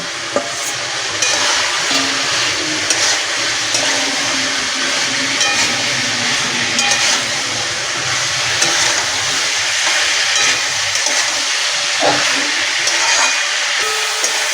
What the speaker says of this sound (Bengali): আমি যে ফুলকপি আলুটা ভেজে রেখেছিলাম ওটা দিয়ে আরও দু তিন মিনিট ভালো করে রান্না করে নেব